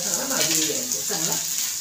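Onion fries in oil in a pan with a soft, continuous sizzle, while a voice talks over it.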